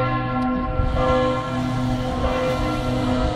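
A small village church bell tolls with a rich, sustained metallic ring, its overlapping strikes blending into a dense, loud hum that fills the space without any talking.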